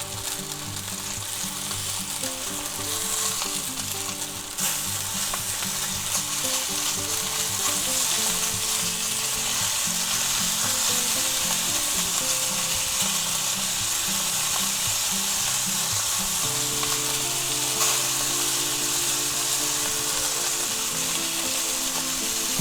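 A thick chuck roast sears in butter in a hot pan, crackling and sizzling steadily and densely throughout, close and fairly loud, with no voices.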